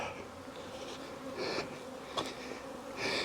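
Honey bees buzz continuously around stacked hive boxes being lifted with a hive lifter, a dense, steady drone with swells of louder, closer buzzing as individual bees pass near.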